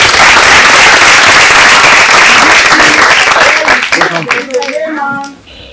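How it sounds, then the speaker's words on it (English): Loud, dense audience clapping fills the room, then thins out and fades as a voice begins speaking near the end. "Clap for her."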